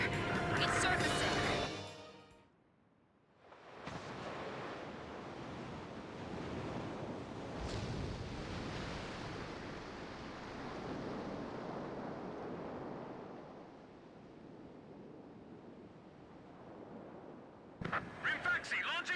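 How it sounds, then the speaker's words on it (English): In Ace Combat 5, the submarine Rimfaxi rises through ocean waves, a long broad wash of surging water and rumble after a brief burst of noise, with a short pause, fading near the end as other game sounds return. "The Rimfaxi's antenna has appeared above water. It's surfacing."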